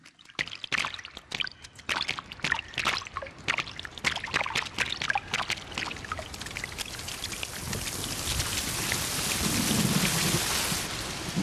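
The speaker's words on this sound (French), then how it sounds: "la première pluie" Boiling rain falls on early Earth, starting with sharp cracks and scattered heavy drops, then swelling into a steady, loud downpour hissing over the surface, with a low thundery rumble underneath.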